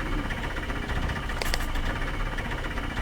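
A badly running car engine in the driving game Jalopy, a rough, low, rumbling drone with uneven knocking pulses, steady and close with no talk.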